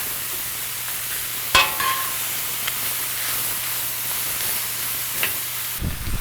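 Vegetables stir-frying for moose chow mein in a hot pan, a steady close sizzle and hiss with a few sharp clatters and scrapes of stirring, then a burst of noise at the end.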